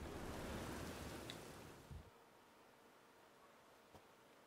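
Steady rain pours in The Witcher 3: Wild Hunt, a dense wash that fills the first two seconds and then thins to a faint patter, with no voices.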